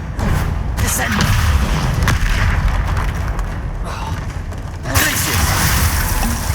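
Heavy booming impacts and thuds of the Descendo spell in Hogwarts Legacy crash through a dense, loud game soundscape, with a sharp burst near the end and a voice talking over the action.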